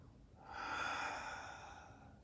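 A single slow, breathy inhale during a standing back-stroke arm-circle warm-up exercise, soft and close, swelling and fading over about two seconds with no talk.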